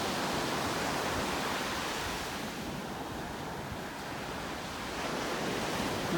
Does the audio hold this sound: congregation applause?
no